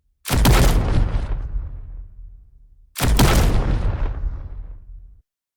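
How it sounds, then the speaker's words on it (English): Two loud, deep video game explosions, each with a sharp blast that rumbles and fades over about two seconds, heard alone with nothing in between. "An explosion without sound will always feel less powerful."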